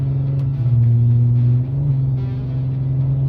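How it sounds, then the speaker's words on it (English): A VW Golf R32 engine holds a steady loud drone as the gearbox hesitates to downshift, with a slight dip and shift in pitch midway. "Oh, it didn't want to downshift there for some reason."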